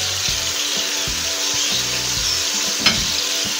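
Masala of salt, chilli, turmeric, coriander powder and garam masala being fried with tomato and onion for a lal lobia curry: a steady hissing sizzle with low scraping stirs and one brief clink, close and fairly loud.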